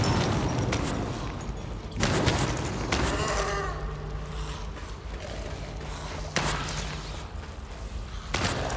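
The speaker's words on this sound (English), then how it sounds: "Explosion." Explosions and gunfire in the video game Solstice Chronicles MIA, with sharp bursts and booms punctuating a dense, noisy battle soundscape.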